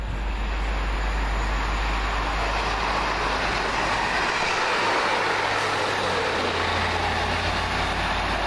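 A Northern Rail passenger train from Southport to Manchester Airport passes near East Didsbury station, making a steady loud roar of wheels and engine with a low rumble throughout. It stays close and constant for the whole stretch, and no one talks.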